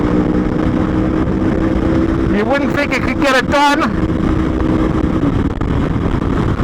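A well-ridden 12-year-old BMW R1200S leads an Aprilia Tuono Factory along a fast flowing road, engines droning loud and steady with wind roar, a brief rising rev burst midway, and a voice talking over it.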